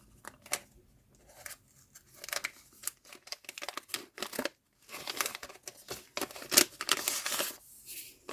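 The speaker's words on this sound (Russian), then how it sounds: "Я немножко порвала этот пакет." Paper rustles, crinkles and tears in irregular bursts as a handmade paper surprise packet is ripped open close up, with quiet gaps between the louder rips.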